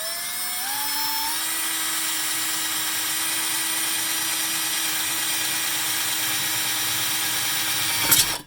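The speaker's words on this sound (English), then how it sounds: "The bench here has a little hole so I can drill through there and get that in place." A power drill bores a hole through a bench, its motor spinning up quickly and then holding a steady high whine before a brief jolt as the bit breaks through and stops.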